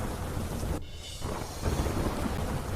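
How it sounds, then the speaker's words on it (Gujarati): Heavy monsoon downpour over rivers in Tapi, a steady dense roar of rain with a low rumble of thunder that briefly drops away and returns, loud and close throughout. "તાપીમાં ધોધમાર વરસાદ થતા નદીઓમાં આવ્યા ઘોડાપૂર."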